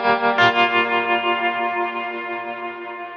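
Electric guitar through a Kemper amp profile, a sustained chord ringing out with heavy drive and effects, struck once and left to decay slowly and smoothly, close and loud, with no talking.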